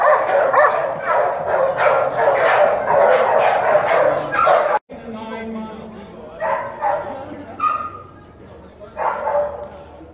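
A pit bull barks and yips several times at an outdoor show for gamebred American Pit Bull Terriers in Colorado. The barks are mixed with crowd chatter and close voices that talk over most of the sound.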